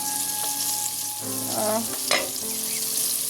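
Chicken sizzling and frying in a pan with a few stirring scrapes and clinks, moderately loud and close, no voices.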